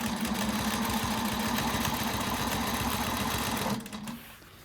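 A sewing machine stitches a Flying Geese quilt in a steady, fast mechanical whir that runs close and loud for nearly four seconds before the needle stops and the motor winds down.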